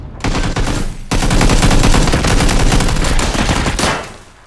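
Sustained automatic gunfire roars loud and close in PUBG during a firefight near a window, a dense unbroken burst that briefly restarts before fading out.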